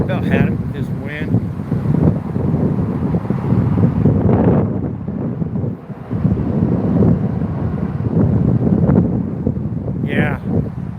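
Strong wind buffets the microphone outdoors beside a trout river, a loud continuous rumbling roar with gusts that briefly ease, close and unbroken for the whole stretch, with no voices.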